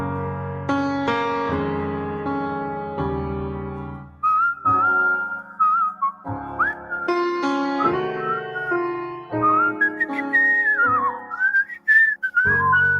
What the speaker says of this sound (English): Now, I can whistle, too.